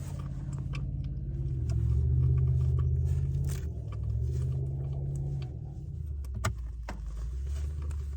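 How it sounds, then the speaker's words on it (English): A car circling a Cabela's parking lot on a cold night gives a steady, fairly close low engine rumble that swells and fades, with scattered small clicks and scrapes. "So there's somebody driving around. You can hear them trying to get attention or something."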